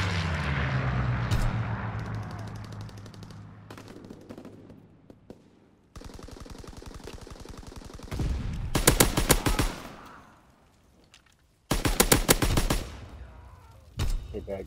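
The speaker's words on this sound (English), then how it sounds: "Fighter aircraft ready. On for a strafing run." A fighter aircraft strafing run in Call of Duty WWII team deathmatch on the Gustav Cannon map: several loud bursts of rapid machine-gun fire separated by short pauses, with heavy booming impacts.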